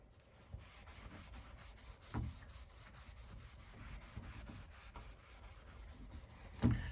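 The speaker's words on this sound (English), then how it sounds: "We'll let that sit on there a little bit and scrub it off and see what happens." Sponge scrubbing water spots off an RV shower surface, a faint continuous rubbing with occasional louder knocks, no voices.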